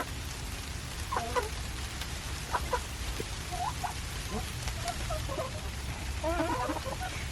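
Backyard chickens on a snowy, icy day give scattered soft clucks and short calls at a moderate distance over a steady rain-like background hiss.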